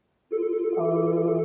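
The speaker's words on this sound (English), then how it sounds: "You got to excuse my phone, but I'm not going to answer." A telephone rings during a radio interview, starting abruptly after a brief silence and sounding loud and close as a sustained electronic ring with a rising second tone, while a man briefly murmurs.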